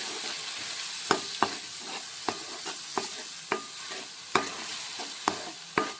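Chopped onions fry in oil in a pan, giving a steady, soft sizzle broken by sharp scrapes and clicks of a stirring spoon every half second or so, with no voices.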